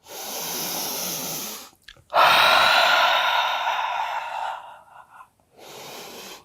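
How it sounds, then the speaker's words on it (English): A deep inhale through the nose followed by a big exhale out the mouth during a stretching routine, two broad breathy swells with a brief pause between, close and fairly loud, then a softer breath at the end. "let's take a cleansing breath in through the nose and a big exhale out the mouth"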